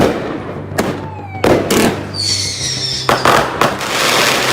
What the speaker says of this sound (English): Eventually, the fireworks stopped long enough for me to talk.